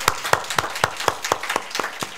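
A church congregation claps in unison to give glory to Jesus. About nine sharp, evenly spaced claps ring out at a brisk, steady rhythm.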